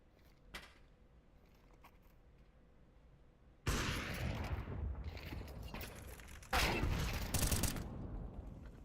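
Rapid bursts of gunfire in a competitive video game match, faint shots at first, then two loud sustained volleys of automatic fire crackling close, each holding for a few seconds.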